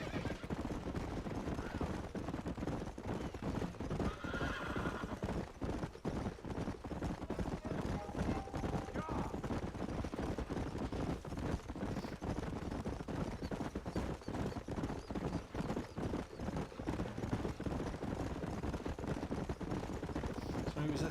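Horse neighing with clip-clopping hooves in the Red Dead Redemption video game, a whinny around the middle over dense continuous game ambience and steady loud background noise.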